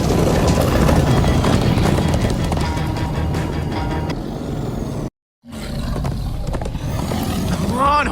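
Horses gallop in the Minecraft Story Mode video game, a loud rapid drumming of hooves and rumble that drops out briefly before resuming, with a character's voice cutting in near the end.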